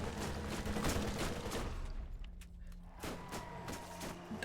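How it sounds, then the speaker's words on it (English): An SMG in Borderlands fires a rapid dense burst of shots, then slows to a few spaced, distinct reports, loud and close with no voices. "this SMG fires real slow, but it's doing damage at least"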